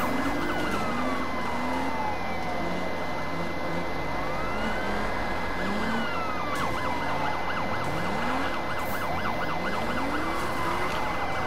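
Several police car sirens wail and yelp during a long police pursuit, loud and continuous, their pitch sweeps overlapping one another above a steady low rumble of car engines.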